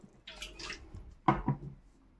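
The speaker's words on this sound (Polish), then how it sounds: "Zobaczcie, zalewam szklanką wody." A glass of very warm water is poured into a mixing bowl of pierogi dough, giving a short, soft splashing gush that fades, followed by a couple of brief dull knocks close by.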